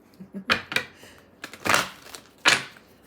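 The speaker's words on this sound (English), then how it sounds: "All right, we're going to do a shuffle." Several quick papery riffles and taps of tarot cards being shuffled, coming in short bursts with brief pauses between them, close by.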